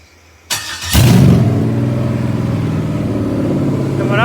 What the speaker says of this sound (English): When you go to rev her up though, she starts dying.